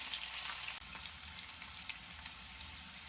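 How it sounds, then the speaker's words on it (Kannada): Two chopped onions sizzle steadily in a hot pan for tomato onion chutney, a close, continuous frying hiss with a small clatter early on. "ಇದನ್ನು ಚೆನ್ನಾಗಿ ಫ್ರೈ ಮಾಡ್ಕೊಳ್ಳೋಣ."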